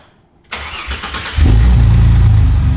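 A custom XG streetbike motorcycle engine cranks and catches, then rumbles loudly and revs up into a deep, raspy roar close by.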